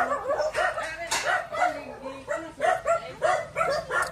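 Dogs at a house in Davao City bark and yip repeatedly nearby in a busy, overlapping chorus, some calls whiny and high, with people talking underneath.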